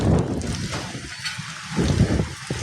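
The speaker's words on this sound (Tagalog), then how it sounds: "Sobrang lakas ng hangin natin dito." Strong wind buffets the microphone with a steady, roaring rush of low rumble and hiss that swells and eases without a break.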